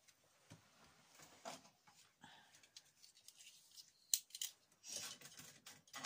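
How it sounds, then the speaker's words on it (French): A craft cutter slicing through paper or card during a recipe-binder craft project, giving faint, close, scattered scraping cuts and soft taps in a quiet room. "Moi, ici, je vais couper à ras. À ras. Mon cutter."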